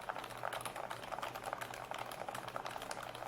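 Fast typing on an A104PRO mechanical keyboard with quiet, smooth-travelling silent linear switches gives a soft, muted, bubbly patter of rapid keystrokes, close and fairly quiet.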